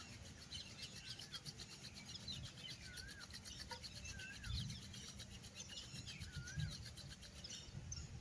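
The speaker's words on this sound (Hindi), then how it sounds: "अपनी हथेलियों को रब करके अपनी आँखों के ऊपर रखना है" Palms rubbed together to warm them during an eye-relaxing yoga routine at home, a soft continuous dry rasping swish that carries on steadily close up, with faint bird chirps in the background and no talking.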